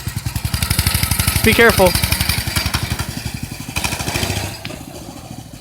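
An old mini bike engine with a badly gummed-up carburetor runs with a rough, pulsing putter. It stays steady, then eases off near the end, and a person speaks briefly over it.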